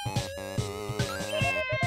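A cartoonish cat meows repeatedly in an indie video game, a bright, steady, rhythmic series of tonal mews over game music.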